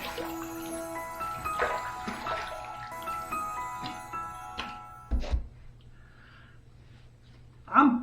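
Running water rinses a knife after a sharpening pass on a Classic Samurai CS 201 sharpener, a steady close wash and trickle under ongoing talk, ending with a brief louder splash.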